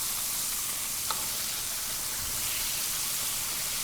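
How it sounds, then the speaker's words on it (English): Steady sizzling crackle of food frying in a hot pan, continuous and close, with no voices. "So we want to keep frying these up like that."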